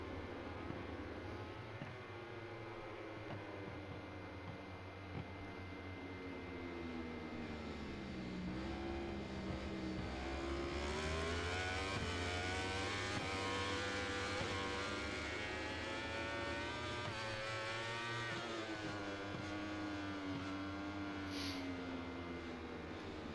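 A MotoGP racing motorcycle at Le Mans screams down the track, its engine note rising and falling steadily through gear changes, heard as a continuous distant whine under a faint commentary bed.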